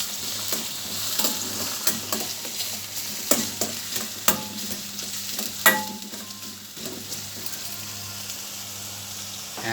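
Ginger sizzles steadily in a hot pan, with a spatula scraping and stirring in scattered sharp knocks and clatters over the continuous frying hiss.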